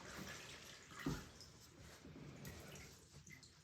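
Water splashes and trickles as a person's leg is rinsed during foot care, with one brief louder splash early on and a steady close wash of running water throughout.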